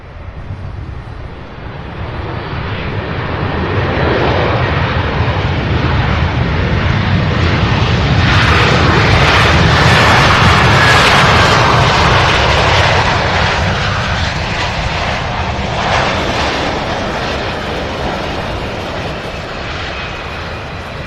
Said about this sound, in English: Spirit Airlines flight 890 out of LAX landing now